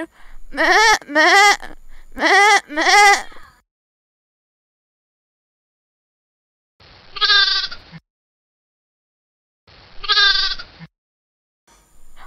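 An animated lamb bleats in quick bursts, two pairs of shrill calls close together, then single bleats after pauses of silence, loud and clear with nothing else behind them.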